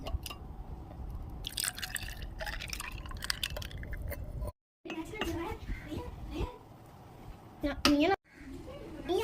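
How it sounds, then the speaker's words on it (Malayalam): Mosambi juice with ice is poured into a glass with a short splashing trickle and a few drips, while a child and an adult talk over it. "ഇനി ഇതെടുത്ത് ഈ ഗ്ലാസ്സിലേക്ക് ഒഴിക്കുക"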